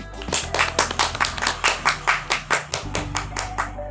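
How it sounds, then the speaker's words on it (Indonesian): A classroom group claps together in a steady, even rhythm of about a dozen crisp, loud hand claps that gradually fade out, with no talk over it. "Beri aplaus"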